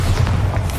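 Bombarda explosion spell in the Hogwarts Legacy video game, a short, heavy low boom that lands close and loud and fades quickly, with no voices.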